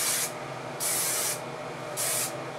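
Garnier Fructis Sleek and Shine Anti-Humidity hair spray gives three short, close, hissing bursts, each about half a second, with brief quiet gaps between, over a faint room hum.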